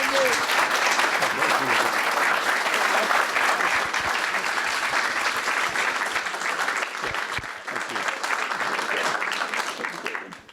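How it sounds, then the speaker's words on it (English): An audience applauds steadily after a talk about a book on the sign of Jonah, a dense, sustained round of clapping that carries on for about ten seconds before tapering off at the end. "Let's give one more round of applause."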